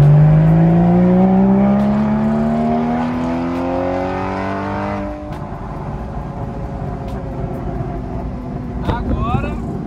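A Porsche Boxster engine revs up through gears, its rising whine climbing steeply then dropping at a shift before building again, loud and close from inside the car with someone talking over it.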